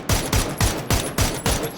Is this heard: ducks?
no